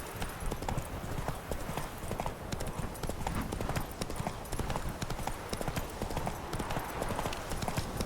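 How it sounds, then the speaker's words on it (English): Horse hooves in The Witcher 3: Wild Hunt, a ridden horse trotting with a steady, dense clip-clop rhythm that is loud and continuous throughout, with no talk. "Horse seems to be steering on his own a lot better today than he was when we started."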